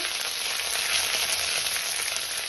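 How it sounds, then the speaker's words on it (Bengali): Ginger and cumin paste frying in hot oil with whole spices, producing a close, steady hissing sizzle with faint stirring underneath. "নেড়ে একটু কষিয়ে নেব।"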